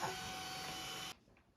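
A household vacuum cleaner running indoors, a steady whining drone that cuts off abruptly near the end, leaving quiet room tone.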